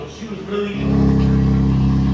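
A powerful supercar engine fires up and settles into a loud, throbbing idle, heard close with a voice speaking briefly at the start.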